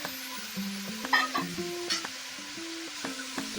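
Spring onion is stirred in a frying pan for carrot pulao, giving a soft, close sizzle broken by irregular scrapes and clinks of the spoon against the pan.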